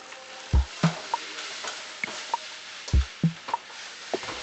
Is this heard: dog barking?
no